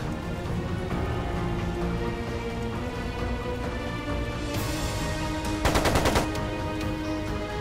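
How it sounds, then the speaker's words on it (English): Automatic machine gun fire in Trails of Cold Steel II, heard over a steady game-music bed: a short burst, then a louder rapid volley lasting about half a second. "It sounded like a machine gun."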